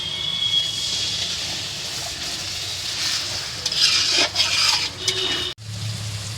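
Water poured into a hot frying pan and stirred while cooking fried rice and chilli chicken, giving a loud, broad hiss with scraping stirs that swell and fade, a brief cut near the end before the sizzle returns.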